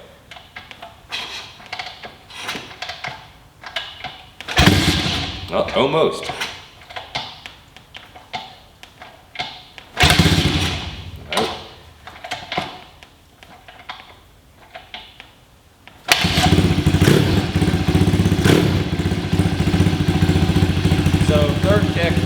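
A 2023 SSR 160 TX pit bike engine is started, bursts of cranking and sputtering giving way to a steady, loud idle near the mic, with a person speaking briefly in between.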